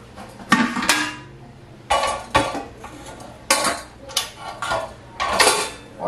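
Hot glass canning jars set down into a hot pressure canner. Several separate clinks and clunks of glass knocking against metal, spaced irregularly over a low background hum, with no talking.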